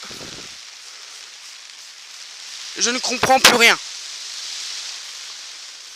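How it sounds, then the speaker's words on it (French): Heavy rain pours down in a garden, a steady dense hiss throughout, with someone briefly speaking French in the middle. "Je sais pas si vous m'entendez parce que là il pleut énormément."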